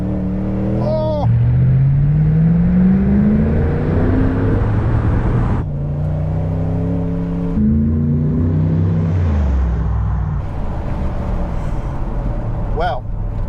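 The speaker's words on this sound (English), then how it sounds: "There was a huge helping of quite brutal V8 power that the rear tyres struggled to contain" Morgan Aero 8 SuperSports with a V8 accelerating hard, the engine note rising through several gear changes in loud repeated sweeps, rear tyres struggling for grip, brief exclamations heard over it.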